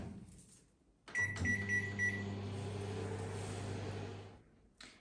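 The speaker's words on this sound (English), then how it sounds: "we're going to put it in the microwave just for 2 minutes" A microwave oven running on full power, a steady close hum that starts with a click and a brief beep, then drones on evenly for a few seconds before winding down.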